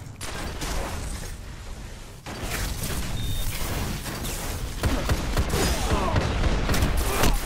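Hand cannon gunfire in the video game Destiny, in a custom match: a string of punchy shots and booming impacts over busy game noise that builds louder toward the end, with no one speaking.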